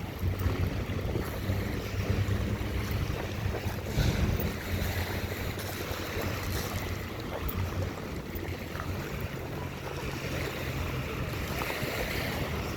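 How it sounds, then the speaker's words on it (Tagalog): Strong wind on the Manila Bay shore at Dolomite Beach, a constant loud roar buffeting the microphone with surf and water noise underneath, no talking. "Ang lakas ng hangin."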